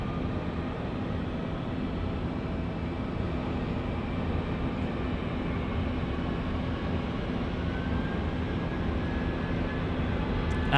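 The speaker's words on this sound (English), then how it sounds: "This is our jet departure now to Christchurch" A passenger jet departs Auckland Airport for Christchurch, a steady, moderately distant engine roar rumbling evenly throughout with no voices.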